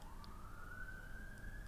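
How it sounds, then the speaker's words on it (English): A fire engine siren sounds in the distance, a steady wail rising slowly in pitch, faint but continuous over low rumbling street noise. "Okay, it's a fire engine."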